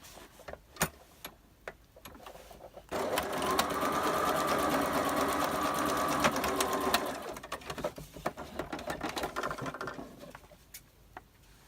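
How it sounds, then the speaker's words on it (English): A sewing machine runs steadily for about four seconds while stitching a zigzag stitch on craft pieces for a boho journal, with scattered clicks and handling noises before and after. "I'm going to sew these now with a zigzag stitch."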